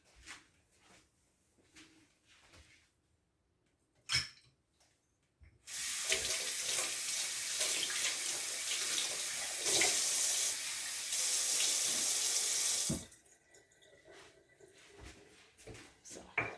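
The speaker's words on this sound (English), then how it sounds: "Put a little bit of water in there." Water runs from a tap for about seven seconds, a loud steady rush bracketed by quieter kitchen clatter and handling sounds, while preparing a seaweed sheet for fried enoki mushrooms.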